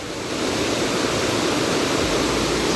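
Floodwater rushes through a forest, a loud, dense, unbroken roar of churning water heard close by.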